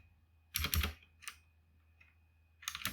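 Bursts of computer keyboard typing while installing and setting up Alpine Linux with i3wm, with a cluster of keystrokes, a brief pause, a single short tap and another rapid run at the end, close and fairly quiet.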